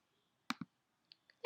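A computer mouse clicks in a quiet room: a close, crisp double click, then two fainter single clicks and one more sharp click at the end.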